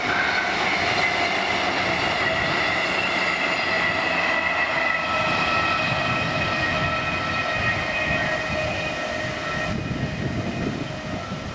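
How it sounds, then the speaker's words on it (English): A mainline train on the West Somerset Railway rumbles past steadily for the whole stretch, loud and close, with a dense mix of wheel noise and rushing air. "There's a mainline train."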